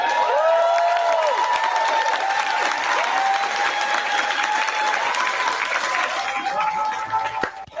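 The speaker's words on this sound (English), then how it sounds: "A lot of limp claps." Steady audience applause mixed with whoops and cheers from a live podcast crowd, a continuous wash of clapping that runs for several seconds before thinning out at the end.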